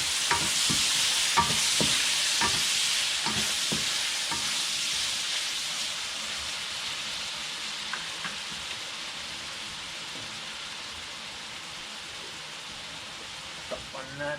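Chicken liver fries in a pan for a Kapampangan-style chopsuey, giving off a steady, loud sizzle throughout, with scattered clicks and scrapes of a utensil against the pan.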